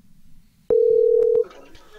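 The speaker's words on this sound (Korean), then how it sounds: "전화 연결해볼게요" Telephone tone while a call connects during a broadcast: a single steady electronic beep lasting under a second, clear and fairly loud, framed by a couple of faint clicks and a quiet background.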